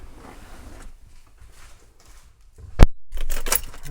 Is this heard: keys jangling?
yes